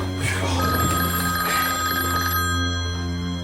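An old telephone bell rings insistently, a bright sustained metallic trill that fills the room at close range, with no speech over it.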